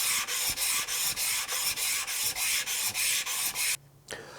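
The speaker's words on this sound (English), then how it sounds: "I've spent less than 2 minutes going back and forth on this sandpaper to kind of grind this down flat" The sole of a broken hand plane is rubbed back and forth on 220-grit sandpaper to flatten it, making rhythmic, close, gritty scraping strokes, about a dozen even passes, before stopping abruptly with one faint final scuff.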